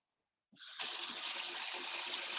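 Tap water starts after a brief silence and runs steadily into a sink while someone washes their hands, a close, even hissing splash that stays alone without talk.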